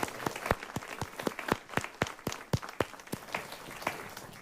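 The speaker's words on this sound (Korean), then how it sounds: "우리 다시 한번 감사와 영광의 박수를 드리겠습니다" A congregation claps together during an Easter Sunday church service. The sharp, evenly spaced claps fall in a loose rhythm and continue steadily throughout.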